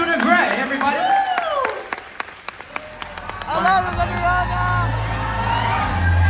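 Audience applause at a Miss Universe extravaganza event, crowd clapping and light cheering beneath an emcee's amplified voice, with sharp individual claps standing out, then a low hum and more talk.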